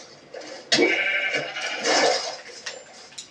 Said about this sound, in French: Ah, c'est un mouton.